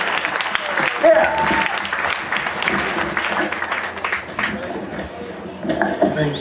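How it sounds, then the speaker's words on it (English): A crowd applauds to welcome Bhakti Marga Swami at an evening spiritual programme, a dense, steady round of clapping lasting several seconds, with voices mixed in and a brief rise near the end. "Please give a round of applause."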